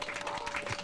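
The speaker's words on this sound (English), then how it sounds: "please clap for them" An audience applauds at a community event broadcast, a dense steady wash of clapping throughout the short moment with no break.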